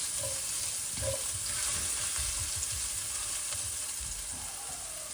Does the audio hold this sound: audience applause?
no